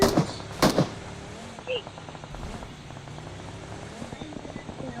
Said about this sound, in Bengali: এ গুলি মারছে আমাদেরকে ভাই